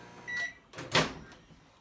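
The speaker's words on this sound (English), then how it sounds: "So guys, I just put in a microwave." A microwave oven heating a mix of milk and eggnog gives a short, close run of mechanical noise, with a brief beep or click at the start and a louder burst in the middle.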